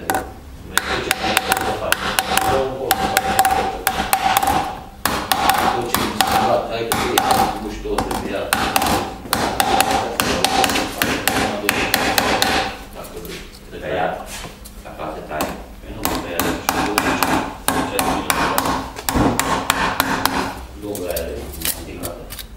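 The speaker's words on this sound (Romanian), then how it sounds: "Folosind ciocanul la starea inițială." Hammer tapping the bent metal fins of a car heater radiator, a Dacia Logan cabin heater core, back into shape: repeated sharp metallic taps in irregular bursts, close and fairly loud, with no talking.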